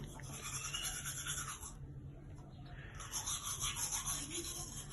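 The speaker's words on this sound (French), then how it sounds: "On va brosser 2 minutes." Teeth are brushed with a toothbrush in a continuous, close scrubbing rasp that briefly thins out midway and then resumes with brisk back-and-forth strokes, with no one speaking.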